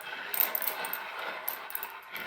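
Small metal coins clink and rattle together in a brief flurry, a few bright jingles close by with no one speaking.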